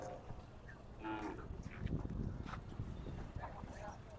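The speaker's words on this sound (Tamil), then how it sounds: "பர்கூர் மாடு மலை மாடு நீங்களே பாருங்கள்" Bargur hill cattle gathered at a temple festival in the Anthiyur hills, with low lowing and shuffling animal sounds amid crowd noise and someone talking over the steady outdoor din.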